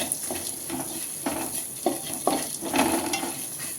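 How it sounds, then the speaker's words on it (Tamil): Small onions (shallots) shallow frying in a pan for Coimbatore-style kalyana sambar, a steady close sizzle broken by repeated scraping stirs of a spoon against the pan. "சின்ன வெங்காயம் ஃப்ரை ஆகணும்."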